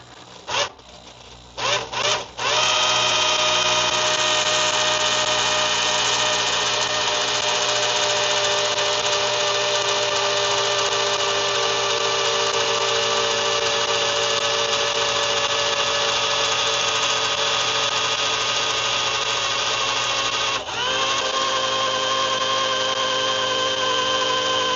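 An electric drill spins steadily for a long stretch priming the oil pump on a Ford 302 Mustang engine, a loud continuous strained whine after a few short starting bursts, with one brief dip near the end.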